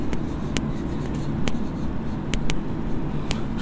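A formula being written out in a Bengali-language mathematics lesson, heard as scattered short taps and scratches of writing over a steady low background hum.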